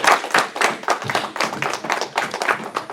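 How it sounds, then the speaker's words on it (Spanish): A smaller church congregation claps after a Sunday morning prayer, individual hand claps audible in a loose, uneven rhythm, fairly close and moderately loud. "Un aplauso para él."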